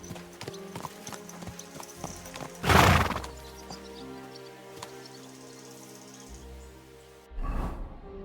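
Horse hooves clop steadily in the video game Kingdom Come: Deliverance II, broken by two loud neighs, one near the middle and another at the end, with a faint game-like ambience underneath.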